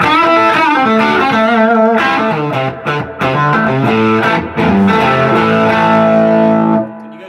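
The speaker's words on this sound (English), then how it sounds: "you've got your wide open bridge sound" A loud overdriven electric guitar on its bridge pickup plays a sustained melodic phrase with bright, gritty distortion, notes bending and ringing out before stopping.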